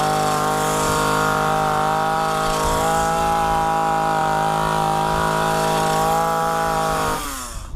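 A petrol hedge trimmer's small engine runs loud and close at a steady high buzzing drone, then slows and winds down at the very end.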